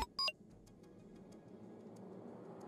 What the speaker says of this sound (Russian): А что пикает-то?